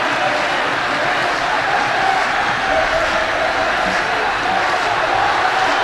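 A football stadium crowd at a 2011 Asian Cup qualifier between Australia and Kuwait roars in a loud, dense, continuous wash of cheering and chanting, broad and distant, under a commentator's voice.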